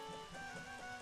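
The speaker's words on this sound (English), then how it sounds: "And now it's starting to rain." Steady rain begins falling in the Zelda video game Majora's Mask, a dense even patter across the whole short stretch, with a faint tonal hum or game music beneath it and no voices.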